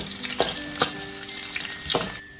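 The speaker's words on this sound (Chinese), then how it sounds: "我们来热锅起油，把料头放进来炒香。" Scallion whites and ginger slices stir-fry in hot oil in a wok, sizzling steadily while a utensil stirs, giving a few sharp scraping clicks over the crackle.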